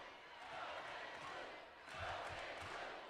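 A crowd roars in an arena during a Kentucky vs. Cal Poly NCAA volleyball regional semifinal, the noise swelling twice with low thumps underneath and voices blended into the sustained din.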